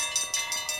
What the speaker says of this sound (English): I like that bell sound.